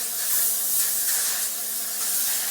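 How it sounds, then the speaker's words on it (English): A KayAli Deja Vu White Flowers body spray gives a short, steady hiss of mist from the nozzle. It is close and clear, with no voices. "I am going to give myself another spray"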